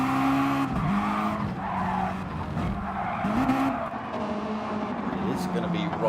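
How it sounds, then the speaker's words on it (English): RC rallycross cars racing around a circuit, their small electric motors whining and tires skidding steadily throughout, with a voice talking over the continuous racing noise. "10 minutes into this chaotic 20-minute rally race"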